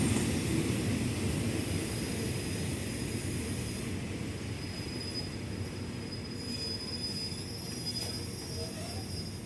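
GEA diesel locomotive 4530 hauling train 985 comes to a stop at Samsen station, with a loud, steady rumble of rolling wheels and high, sustained brake squeal that eases slightly toward the end.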